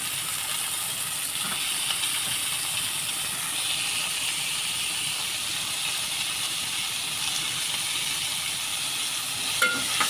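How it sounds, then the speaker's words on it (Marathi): Onion, tomato, curry leaves and spices sautéing in oil in a pan give a constant close hissing sizzle, with a few faint stirring clinks near the end. "हे सर्व मसाले कांदा टोमॅटोचं तेलामध्ये परतून घ्यायचे भाजून घ्यायचं"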